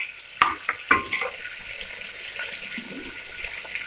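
Tomato masala for Rampur-style mutton biryani sizzles gently in a pot while being stirred slowly, with a couple of close spoon clinks early, then quiet bubbling and scraping.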